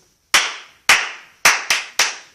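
Five crisp, loud hand claps from a storyteller with school children, close and isolated, spaced unevenly with the last three coming quicker.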